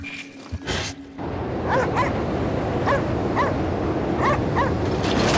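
A dog in the Cryostasis video game gives a run of short, sharp barks and yips, about seven spaced bursts, heard alone over a steady cold, windy background drone.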